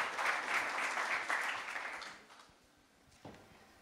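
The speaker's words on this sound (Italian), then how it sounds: "Diamo un applauso di benvenuto." Conference audience at an international waste economy forum gives a welcome round of clapping, dense and steady for about two seconds, then thinning out and fading to scattered claps, with one last clap near the end.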